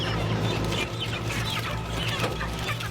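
Many chickens cluck and squawk together in a dense, continuous racket, close by, with no talking, as poultry are mechanically caught on a farm.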